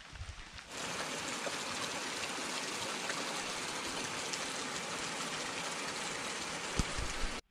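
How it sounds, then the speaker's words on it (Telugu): Steady rain falling near a mountain temple in Uttarakhand, a faint, even hiss of drops and running water that fades in after a short pause and carries on unbroken to the end. "వర్షం అయితే బాగానే పడుతుంది,"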